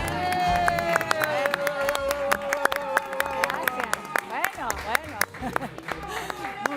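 Studio audience on an Argentine television talk show applauding and cheering, a dense wash of claps and crowd noise running under music and a nearby host's voice.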